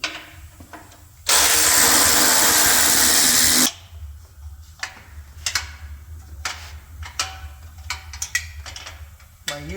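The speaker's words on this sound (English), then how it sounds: "My use of power tools has ended it just as quickly as it begun." A power tool whirs loudly and steadily for a couple of seconds while a Honda Trail 90 motorcycle is being taken apart, then cuts off abruptly, leaving light clicks and handling noises.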